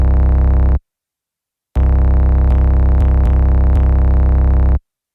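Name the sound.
deep distorted 808 bass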